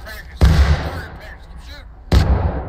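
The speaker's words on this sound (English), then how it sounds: "Just keep shooting, boys!" Two loud, sharp musket shots in the Civil War shooter War of Rights, with low, booming reports about a second and a half apart and some background chatter between them.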